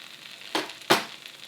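Bitter melon cooking with tomato and eggs in a frying pan, with a quiet sizzle broken by two short hissing bursts as the food is stirred.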